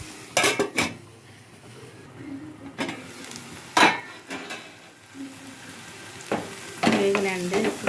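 Spices frying in a pan, with sharp clanks of a utensil against the pan at irregular intervals over a low sizzle, close by, and a voice briefly audible at moments.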